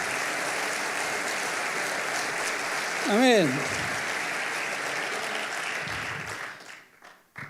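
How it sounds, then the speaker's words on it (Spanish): A church congregation applauds steadily during a Spanish-language worship service, a dense, continuous wash of clapping that lasts nearly the whole stretch before thinning out at the end, with a single voice speaking briefly over it. "Gloria a Dios, sí, aplauda porque es para Jesús."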